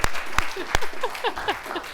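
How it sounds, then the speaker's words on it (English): A small audience claps on a television show, a few loud sharp claps near the start and then lighter scattered clapping mixed with brief vocal sounds, all close and short. "That's a round of applause right there."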